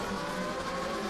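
GP2 race cars roar through a corner on a Spanish circuit, a brief, fairly faint blend of engine whine and track noise with no clear pass-by peak.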